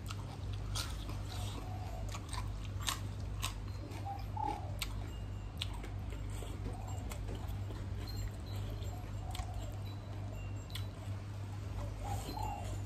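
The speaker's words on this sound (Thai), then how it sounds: "จะตัดกรุบกรุบ" Crunchy bites and wet chewing of a spicy Thai som tam-style salad, heard close up as a steady run of crisp crackles over a low background hum, with no talk.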